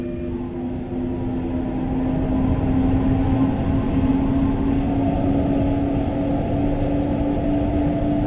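Interior of a double-deck coach hauled by a BR 146.2 electric locomotive in Train Sim World 2020: a steady rumbling roll with a sustained electric whine, continuous and fairly loud with no talking.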